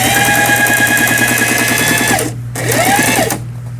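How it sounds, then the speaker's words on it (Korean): A Singer 4423 sewing machine stitches a zigzag, a loud close rapid mechanical chatter with a steady hum that runs, pauses briefly, starts again and then stops. "지그잭 바느질 돼서 나오네요"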